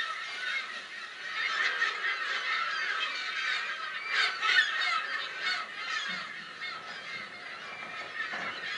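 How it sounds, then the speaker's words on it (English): California gulls crying at Mono Lake in the desert, a dense, continuous chorus of shrill calls from many birds at a moderate distance, swelling and easing with no speech. "piercing cry of gulls breaks the desert stillness."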